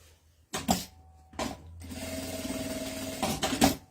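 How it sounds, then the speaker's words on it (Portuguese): A sewing machine stitches a seam on a bag: a couple of short starts, then a steady whirring run of stitching with a couple of closing bursts, close and fairly loud, with no voices. "Eu vou primeiro, aqui na emenda do pique, passar uma costura."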